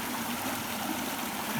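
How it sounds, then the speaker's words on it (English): A seasonal creek running after heavy rain, a steady, dense rushing flow of water close by, continuous and even with no voices. "our creek that almost never flows is flowing"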